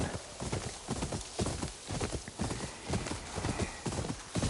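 Wild horses in the video game Ghost of Yotei, their hooves clip-clopping steadily and loudly across open ground, with whinnies mixed into the busy hoofbeats.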